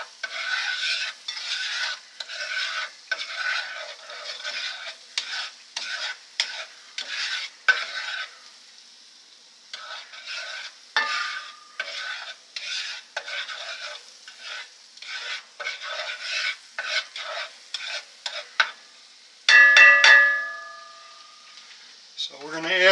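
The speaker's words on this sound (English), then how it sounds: "this is a test for the ceramic pan to see how well it does with our basically sugar butter mixture here for the bananas" Sugar and butter sizzle in a ceramic non-stick frying pan for fried bananas, crackling steadily while a utensil stirs and scrapes in repeated strokes, with a brief louder burst of hiss near the end.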